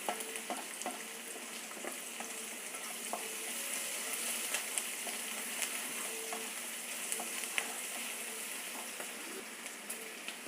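Onions sizzle in a pan with a pinch of asafoetida powder, giving a constant dense frying crackle with faint occasional spoon clicks.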